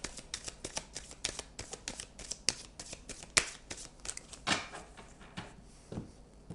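Tarot-style cards shuffled by hand for a nine-card draw, a close series of rapid riffling flicks and soft slaps with an irregular rhythm.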